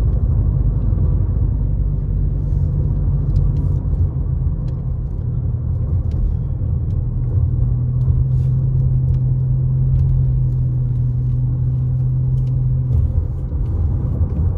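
Car driving on a road through Papoose Bay near Big Bear Dam at Big Bear Lake, California, heard from inside as a loud, steady low rumble of engine and tires with a droning hum and no talking.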